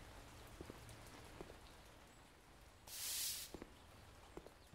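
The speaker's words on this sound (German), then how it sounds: "aber es regnet immer noch" Soft, steady rainfall in the video game Cafe Owner Simulator patters across surfaces with scattered drops, interrupted by a brief loud burst of hiss in the middle.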